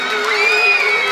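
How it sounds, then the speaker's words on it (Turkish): Festive cheering and whooping from a party crowd at a Turkish henna night in Hamburg, celebrating a cake; a sustained, loud wash of voices with a high whistle-like tone running through it. "Bir alkış var mı bu tortaya?"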